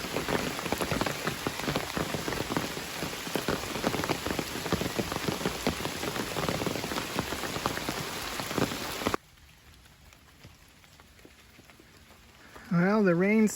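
Steady rain falling on rocks and ground along the Appalachian Trail, a dense hiss of drops for about nine seconds, then cut to a quieter background with no rain.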